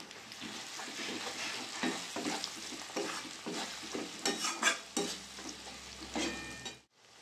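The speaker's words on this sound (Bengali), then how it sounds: "মশলাটা ভালো করে কষিয়ে নেব" Chilli-powder spice mix for chicken curry frying and being stirred in a pan, with steady sizzle and repeated scraping strokes throughout, close and fairly loud, stopping abruptly just before the end.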